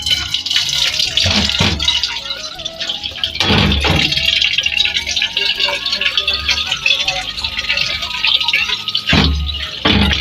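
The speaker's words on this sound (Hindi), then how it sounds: "ये देखिए हम इसे पहले धोएंगे।" A cooking pot is rinsed with water, with splashing and sloshing bursts and metallic rattles of the pot, fairly close. A voice talks intermittently over the washing.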